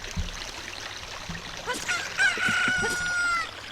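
A rooster crows once at daybreak in The Legend of Zelda: Ocarina of Time, a clear drawn-out call over faint ambient game sound, preceded by soft clucks and followed by a short jingle.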